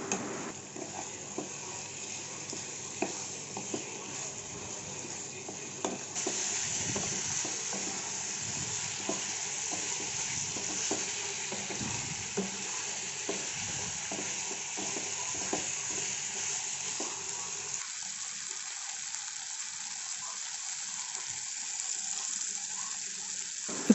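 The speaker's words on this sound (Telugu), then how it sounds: "ఇప్పుడు చికెన్ ముక్కలు కూడా వేసి ఒక 5 నిమిషాల పాటు మీడియం ఫ్లేమ్లో వేయించండి." Chicken pieces fry on a medium flame for a restaurant-style chicken curry, giving a soft continuous sizzle with occasional stirring clicks, fairly quiet and steady, with no speech.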